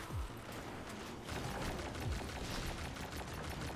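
Enemy gunfire in Destiny 2 crackles faintly and steadily through a busy game mix, with a few low thumps but no voices.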